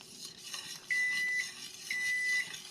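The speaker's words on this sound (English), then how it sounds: "that's the timer" A kitchen timer beeps in two sustained electronic tones, each about half a second long and a second apart, while a whisk scrapes a pot of banana pudding custard on the stove.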